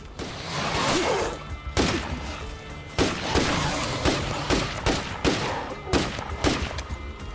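Bursts of gunfire in the video game State of Decay 2, several sharp separate volleys spread unevenly across the stretch, loud and close against a steady background of game ambience.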